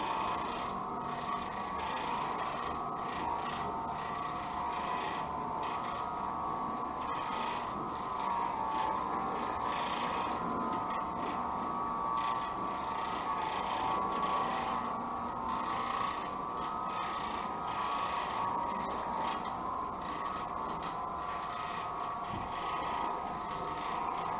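An Oreck Orbiter floor machine scrubs residential carpet, giving a steady, unbroken mechanical drone with a rough rubbing texture that holds at an even loudness from start to finish, with no voices.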